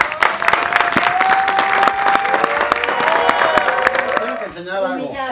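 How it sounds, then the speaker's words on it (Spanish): A studio audience behind the scenes of a Platanito show claps loudly on cue, with scattered cheers and a sustained tone beneath, while a voice speaks at the close. "Fuertes aplausos en 6, 5, 4, 3,"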